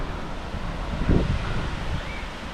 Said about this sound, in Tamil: தண்ணி பாருங்க எப்படி ஊற்றுது இந்த அருவியில்